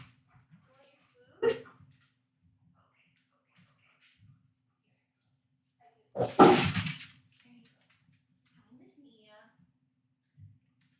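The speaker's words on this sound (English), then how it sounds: "that was like Appa barking to ask for food" Two short, separate dog vocalizations, a brief yip followed several seconds later by a longer, louder woo-like bark, with quiet room sounds between.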